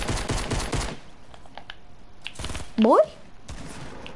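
Rapid bursts of shotgun fire from a video game crackle in tight clusters, loud at the start and then in shorter scattered volleys. A player speaks briefly over the game sounds.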